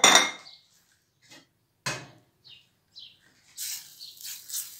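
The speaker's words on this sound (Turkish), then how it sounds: "Domateslerimi tavaya şöyle boşalttım arkadaşlar." Chopped tomatoes emptied from a container into a pan, a few short clattering knocks and scrapes of metal and utensil spaced over several seconds, close and moderately loud, then a brighter rattling toward the end.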